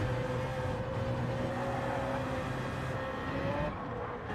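A BMW Z4 race car engine in Gran Turismo 7 drones steadily at a sustained pitch, a smooth continuous tone that rises slightly before easing off near the end, with no talk over it.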